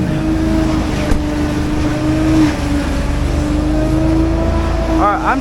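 Jeep Compass engine running steadily with a sustained low hum and a faint rising whine near the end, under loose background noise as it pulls out of park.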